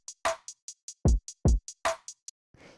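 A produced drum loop from a music track, with crisp closely spaced hi-hat ticks, two deep booming kicks and snappy snare hits in a tight pattern, ending in a faint noisy tail.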